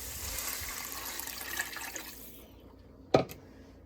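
Water is measured out and poured into a pot in a home kitchen for a boxed recipe. A broad, steady splashing rush lasts a couple of seconds, then stops, and a short sharp clink follows near the end.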